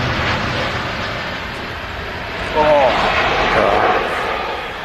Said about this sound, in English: There goes the Boeing 787 Dreamliner.